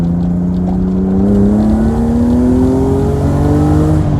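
A car engine revs up steadily to high RPM, its loud droning pitch climbing smoothly over about four seconds, close by with no talking.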